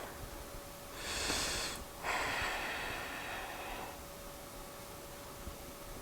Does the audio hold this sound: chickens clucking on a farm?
no